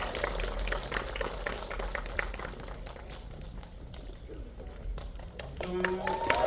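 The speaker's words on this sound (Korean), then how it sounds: "큰 박수 부탁드립니다." Audience at a film screening Q&A clapping to welcome the actors and director, scattered claps over room noise, with a voice talking near the end.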